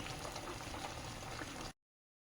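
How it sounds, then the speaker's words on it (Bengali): Sweets simmer in sugar syrup in a pot, a soft, steady bubbling that runs evenly for a moment before cutting off into silence. "ভালো করে একসাথে চিনির রসের সঙ্গে মিষ্টিগুলো ফুটিয়ে নেব"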